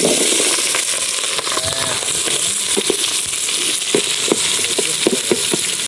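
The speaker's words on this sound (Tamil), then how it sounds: "வெங்காயம் போட்டுக்கலாம், நல்லா வதக்கடா" Onions sizzle and crackle in a pan over an open wood fire outdoors in a forest, with steady frying hiss and scattered sharp pops and scrapes close by.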